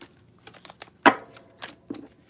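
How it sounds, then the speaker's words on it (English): A deck of over 100 oracle and tarot cards is shuffled by hand, giving a few soft riffling bursts with one louder flutter in the middle, close and alone. "Let me just give my cards a real good shuffle here."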